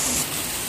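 Steady rain falling during several days of wet weather, a constant broadband hiss that stays even and fairly loud throughout the short stretch with no other sounds standing out.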